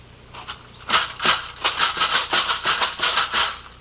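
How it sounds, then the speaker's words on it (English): Dance leg shaker rattle strapped onto a leg and shaken, giving a quick run of about a dozen bright, rhythmic rattling bursts, close and loud, with no talk. "And I shake it to see if I got it on tight enough where it don't slide down"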